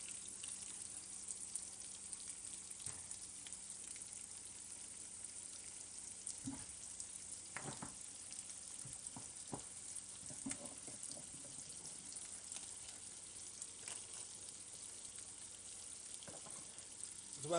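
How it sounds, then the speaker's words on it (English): Shrimp sizzling in a pan as butter goes in, a faint steady frying hiss broken by scattered soft pops and clinks. "Alright, shrimp are just about done. Going to add in a little bit of butter."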